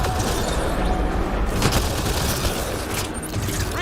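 Sustained, loud gunfire in the video game Mass Effect: Andromeda, a dense continuous barrage of shots and blasts blending into a roaring wall of noise with no pauses.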